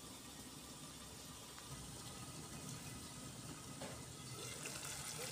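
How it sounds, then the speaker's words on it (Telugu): Water poured in a small amount into simmering chicken curry in a home kitchen pot, a steady, continuous gushing splash held at an even level for several seconds, close and moderately loud with no voices. "కొద్దిగా వాటర్ వేసుకుంటాను, మరీ భారీగా కాదు, కొద్దిగా"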